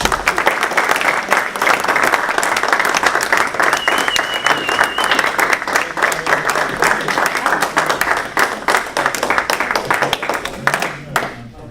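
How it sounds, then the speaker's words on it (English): Rotary club members give their new officers a sustained round of applause at a club meeting in Sanford, North Carolina: loud, close, crisp clapping that fades at the end as a voice begins. "So please join in a round of applause for your officers."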